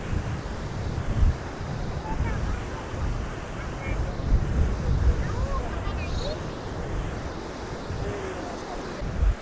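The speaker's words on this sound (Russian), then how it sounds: "Ну и вот такое вот море." Sea waves wash continuously onto a long sandy beach on Koh Chang island in Thailand, a steady breezy surf roar with wind noise and voices at times.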